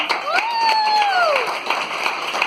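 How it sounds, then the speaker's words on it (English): Family guests clap for a man's 95th birthday, a moderate, scattered round of applause at close range, mixed with a voice speaking or calling out over it early on. "Let's have applause."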